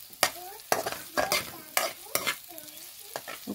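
A spatula stirs fried potatoes and French beans in a pan: about six sharp, close scraping strokes at an uneven rhythm over a low, quiet sizzle.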